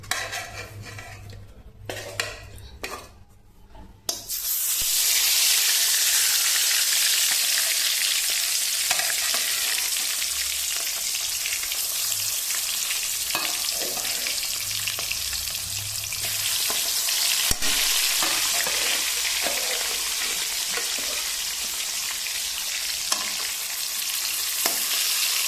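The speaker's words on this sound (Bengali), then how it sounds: "তেল কড়াইয়ে দিয়েছি, তেল গরম হয়েছে, এখন মাছটা দিয়ে দেব।" Rohu fish dropped into hot oil in a wok bursts into a loud, dense sizzle after a few seconds of quieter kitchen clatter, then crackles steadily with occasional utensil knocks.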